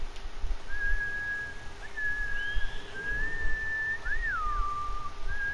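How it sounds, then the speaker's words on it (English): Horse whistle in the video game Ghost of Tsushima: a sustained, clear whistled tone repeated several times with small pitch slides and a final swooping rise and fall, over a quiet ambient background. "I can spam the horse whistle."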